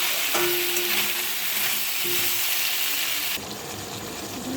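Vegetables fry in oil for a curry, a steady close sizzle with occasional stirring, continuous throughout and dropping slightly near the end, with no talking.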